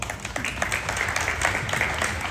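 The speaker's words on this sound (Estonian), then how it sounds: "Aplaus peaks olema veel tugevam." Audience applause following a speech at a book-year opening event, dense steady clapping from a crowd, fairly close and continuous throughout.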